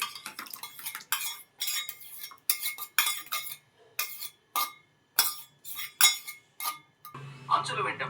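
A metal spoon stirring khoa milk into pumpkin kheer in a steel pot, a series of irregular clinks and scrapes in short bursts with brief pauses, close and fairly quiet.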